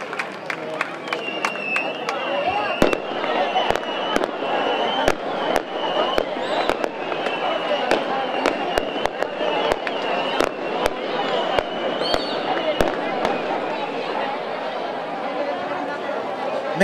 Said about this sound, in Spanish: vamos a esperar los minutitos que duren los fuegos artificiales en honor a la patrona